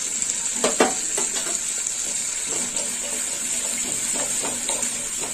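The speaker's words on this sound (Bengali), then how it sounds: "মশলাটা একটু কষে নিই।" Masala paste with green chili paste sautéing in a pan, giving a constant bright hiss with scattered scrapes and knocks of a spoon stirring, close and steady, with no talking.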